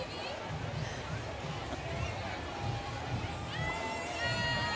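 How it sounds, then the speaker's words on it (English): A large crowd at Savannah's 200th St. Patrick's Day parade cheers and murmurs in the distance, a low continuous hubbub of voices and shouts behind nearby chatter. "We have a big crowd right behind us"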